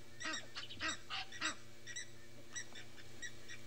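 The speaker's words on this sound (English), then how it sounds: "Lots of bird noises." Many wild birds on an African safari give repeated harsh, honking alarm calls in loud bursts, close and overlapping, then tapering into sparser calls.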